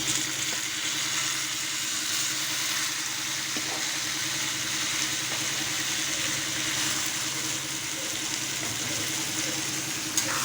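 Taro leaves frying in hot oil, a steady, dense sizzle and hiss running evenly throughout with a low background hum and occasional faint clicks.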